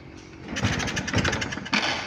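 A Keeway Euro 125 motorcycle with a no-start fault from a grounded regulator is cranked, giving three short bursts of engine turnover and compression pulses, close up and fairly quiet.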